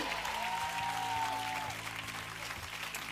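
A TV studio audience at a music game show applauds as the band is introduced, producing a steady, moderately distant wash of clapping with a brief sustained tone over it early on.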